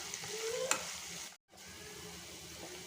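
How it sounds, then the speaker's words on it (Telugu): Finely chopped onions and curry leaves fry in a pan, giving a soft, even sizzle that stays fairly quiet throughout, with one faint clink early on and a short gap in the middle. "ఒక 2 ఆనియన్స్ని చిన్నగా కట్ చేసి వేసుకోండి. ఒక 2 మినిట్స్ వీటిని ఫ్రై చేయండి."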